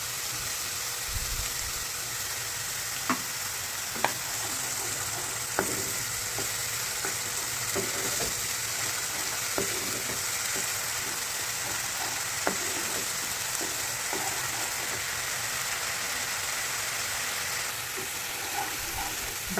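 Spiced paneer kalia masala fries in a pan with a steady, even sizzle, while a spoon scrapes and stirs now and then with scattered soft clicks, and no one speaks.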